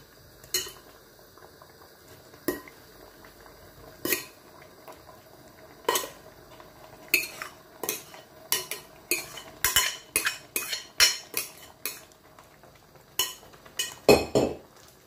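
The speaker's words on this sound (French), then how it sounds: "Je vais ajouter le gombo mixé, écrasé" Blended, mashed okra goes into a cooking pot for a fried okra sauce, with irregular sharp clinks and scrapes of a utensil against the pot that grow busier toward the end.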